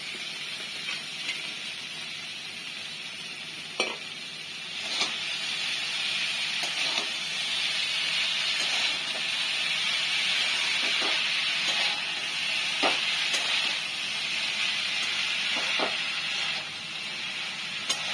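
Chopped banana flower with salt and spices fries in a pan, giving a steady close sizzle and hiss, with occasional soft scrapes and knocks as it is stirred.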